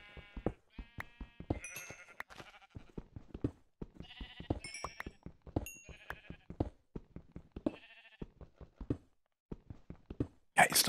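Sheep in the video game Minecraft (version 1.14) bleat repeatedly, several wavering cries close by amid steady blocky footstep taps and small clicks, with no talking over them.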